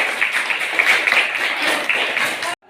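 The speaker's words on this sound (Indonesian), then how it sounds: "Kasih tepuk tangan sama Bila." A junior high school class claps for a classmate, dense close clapping that fills the room for a couple of seconds and then stops abruptly.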